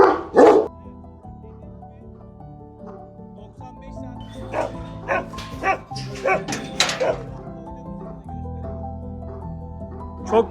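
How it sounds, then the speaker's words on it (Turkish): A large dog barks loudly up close, a couple of deep woofs followed by scattered yips and whimpers over steady background noise, with no clear talk. "Şimdi köpek burada."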